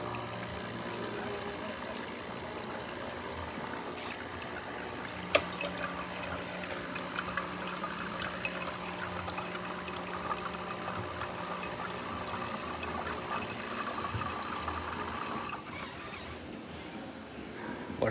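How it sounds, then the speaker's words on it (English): A Jura Impressa A9 coffee machine rinses its water filter, giving a steady, moderately faint hum of pumped water and liquid flow that runs unbroken for the whole stretch, with a single small click partway through. "Now the filter is gonna get rinsed."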